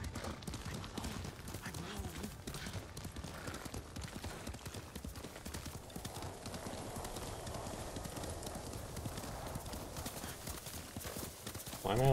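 Horse hooves clip-clopping steadily in the Ghost of Tsushima video game, a continuous close rhythmic trot with faint game ambience and a voice talking over it.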